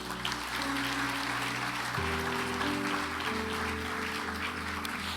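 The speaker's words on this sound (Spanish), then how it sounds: "Denle un aplauso al Señor." A church congregation claps for several seconds over sustained organ or keyboard chords, the applause steady and fairly dense from start to finish, with a shift in the musical harmony partway through.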